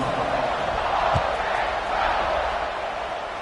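Broad roar of a football stadium crowd at a Michigan vs Ole Miss game just before kickoff, a steady sustained cheer and murmur with no single voice standing out.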